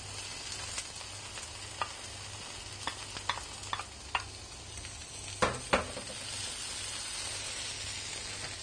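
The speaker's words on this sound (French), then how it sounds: "nous allons verser la moitié du mélange oignon galanga dans la poêle chaude" Onion and galangal mixture sizzles quietly in a hot pan, a soft steady crackle broken by a few sharp ticks and louder spatters from stirring, with no voices.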